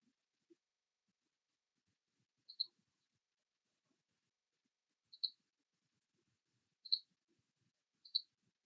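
Four faint, crisp computer mouse clicks spaced a few seconds apart in an otherwise near-silent room.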